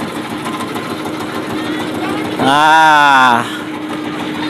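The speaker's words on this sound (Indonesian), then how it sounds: "Sorry nih kalau agak berisik, soalnya gue duduk di dekat mesin ya." A small wooden river boat (getek) engine on the Musi River in Palembang runs close by with a steady chugging drone, while a brief loud tonal whine rises over it midway and a voice speaks briefly.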